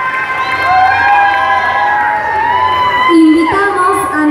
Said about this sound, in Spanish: Fuerte los aplausos del amable público